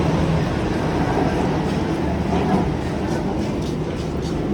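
A metro train rumbles steadily and loudly at Hauz Khas metro station in Delhi, a continuous rolling drone with faint rhythmic clatter and no clear speech over it.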